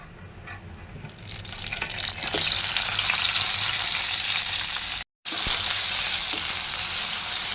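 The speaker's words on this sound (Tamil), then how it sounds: "தக்காளி பழங்களை இந்த எண்ணெயிலேயே நல்லா வதக்கி எடுக்கணும்." Loud steady sizzling of tomatoes frying in hot oil, starting quieter then swelling, with a brief cut near the end.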